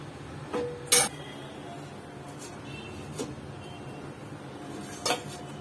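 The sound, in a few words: pot lid and pot clinking while draining moringa soup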